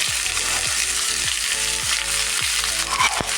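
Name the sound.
green chillies frying with onion in a pan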